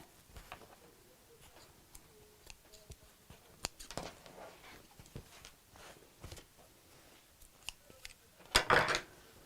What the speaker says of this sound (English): one final little trim of these threads to make it neat